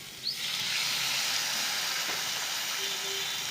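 Water hits a hot pan of fried green mango and radish, flaring into a loud, close, steady hiss of steam and sizzle that keeps going with no pause and no talking.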